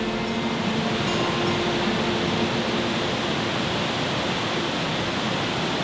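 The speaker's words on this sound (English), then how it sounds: "The most magical waterfall, probably with the exception of Niagara Falls, which is a bit bigger." An untouched Icelandic waterfall roars in a steady, dense rush of falling water, loud and unbroken throughout with no voices.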